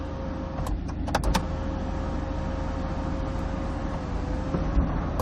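A BMW 118d sunroof motor hums steadily as the roof slides open, with a few faint clicks over a low cabin drone, close and fairly quiet.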